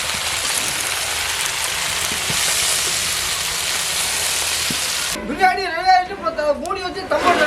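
Potatoes frying in hot oil with mustard seeds and curry leaves give a loud, dense, steady sizzle that fills the first five seconds, then give way to someone talking over a quieter pan.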